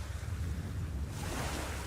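Sea waves wash onto a beach in a continuous broad roar, with a swell of surf rising midway, close and fairly loud with no voices.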